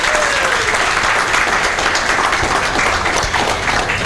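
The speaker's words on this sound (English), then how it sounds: "one more round of applause, please, for this team" A church congregation applauds the music team during a Sunday service, loud and sustained clapping from a large crowd filling the room evenly from start to finish.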